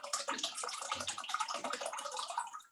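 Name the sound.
hot can plunged into ice water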